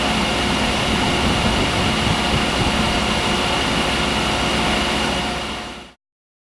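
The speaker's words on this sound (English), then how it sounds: "When the system air pressure is met, the engine will drop down to a low RPM or low idle." Genair engine dropping to a low RPM idle after reaching system air pressure: a steady, loud engine drone that holds evenly and then cuts off abruptly near the end.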